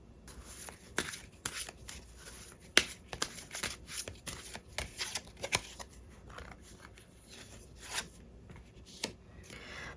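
Tarot cards being shuffled by hand, with close riffling and soft slapping strokes in irregular bursts, fairly quiet and without talk.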